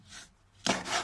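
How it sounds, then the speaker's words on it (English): A standard kitchen knife saws through a cork, a close, dry rasping scrape in two strokes, a softer one first and then a louder, rougher one, with no voice. "So, this is the standard knife. Cutting through the cork."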